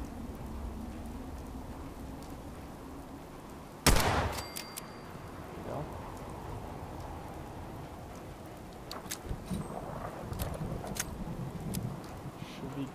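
A single loud gunshot rings out in Fallout 4 amid steady rain-like ambient noise, followed by a few faint scattered pops and game background sounds; no one speaks over it.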